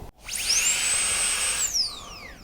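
DentalAire Prestige high-speed dental drill handpiece with a burr spins up to a piercing, steady high whine, holds it for over a second, then winds down in a falling tone, close and loud with no talk.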